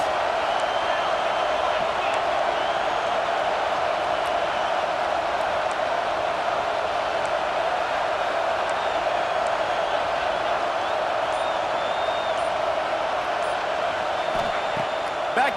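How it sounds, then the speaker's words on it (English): A stadium crowd at a football game between the Vols and the Dawgs roars in a steady, dense wash of noise that holds for the whole stretch, with no single voice standing out. "This crowd trying to make life miserable for this offense."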